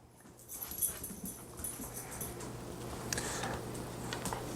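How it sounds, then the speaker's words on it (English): A puppy whimpering and snuffling softly as it comes into a room, faint whines and small ticking sounds over a low steady hum, with no talk. "My dog just came in here."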